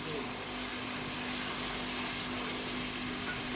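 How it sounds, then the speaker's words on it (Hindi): White chickpeas roast with spices in a hot pan, giving a steady broadband sizzle and hiss that holds evenly at moderate loudness, with a faint low hum beneath. "अब हम इसकी अच्छी तरह भुनाई करते हैं।"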